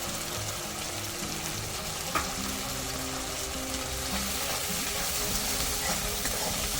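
Potatoes and ground chili, turmeric and cumin frying in oil in a pan, a steady close sizzle with occasional stirring scrapes and no talking.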